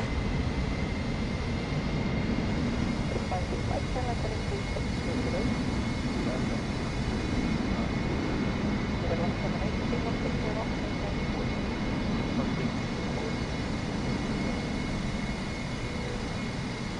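Delta Boeing 747 landing and decelerating at Indira Gandhi airport, heard from inside the cabin as a loud continuous broadband engine and airflow roar with a steady rumble that holds throughout, faint voices underneath.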